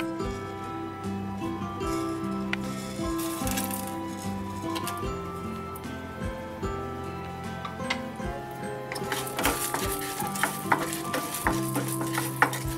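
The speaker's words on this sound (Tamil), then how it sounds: "துவரம் பருப்பு கொஞ்சம் பொன்னிறமா வர்ற வரைக்கும் நம்ம வந்து வறுக்கணும்." Toor dal and spices roast in ghee in a pan while a utensil stirs them, making repeated clicks and scrapes over a soft steady sizzle. The stirring grows brisker and sharper toward the end, heard up close with no speech.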